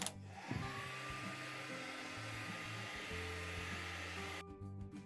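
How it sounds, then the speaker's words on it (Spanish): A hair dryer blows steadily to dry acrylic paint on a glass bottle, its whirring hum continuous and close for several seconds before cutting off abruptly near the end. "con un secador de cabello, secar muy pero muy bien todo el acrílico"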